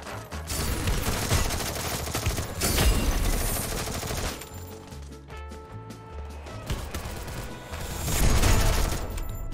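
Gunfire in the mobile battle game Free Fire, with bursts of rapid automatic shots and scattered single cracks coming in waves, loud and busy, alongside in-game sounds and occasional voices.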